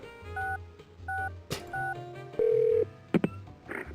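In the Spy Fox video game, a phone is dialed with a run of short touch-tone beeps, then a single long electronic ring tone sounds, followed by a few clicks, all clear and close.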